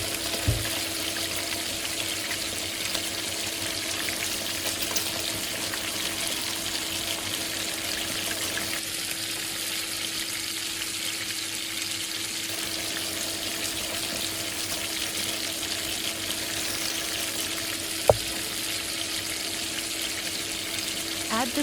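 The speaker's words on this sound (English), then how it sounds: "Increase the heat. Pour in the beaten eggs and cook until just set." Beaten eggs sizzle steadily in a hot pan over raised heat for Chinese scallion braised eggs, a constant frying hiss with a low hum underneath and a single sharp clack near the end.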